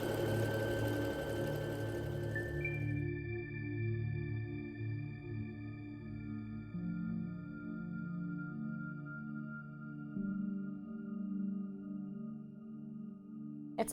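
A sewing machine runs steadily while stitching elastic onto the leg hole of a figure skating dress, giving a continuous, even motor hum with sustained tones that shift slightly in pitch partway through.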